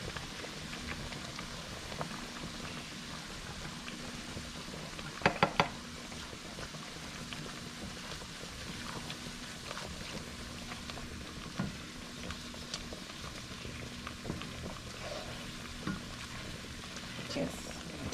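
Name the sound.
onions and garlic frying with flour in a pan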